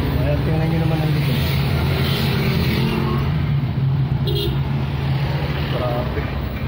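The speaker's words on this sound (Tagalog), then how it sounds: "So, sobrang traffic." Steady engine rumble of heavy road traffic in a jam, continuous and fairly loud close by, with a voice talking over it.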